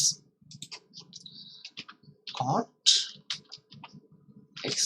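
Scattered clicks and taps on a computer keyboard come in short, irregular bursts, mixed with a person talking nearby.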